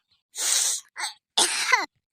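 Three harsh, close coughing bursts, the last one longest and raspy, with brief silences between them.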